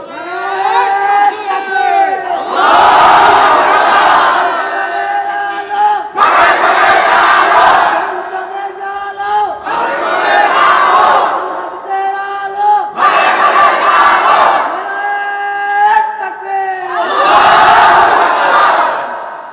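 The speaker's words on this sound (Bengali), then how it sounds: "সমস্ত শক্তি দিয়ে সবাই বলবেন নারায়ে তাকবীর" Large crowd roaring the Islamic chant Naraye Takbir in unison at a religious gathering, five loud, long shouted bursts separated by short silent gaps.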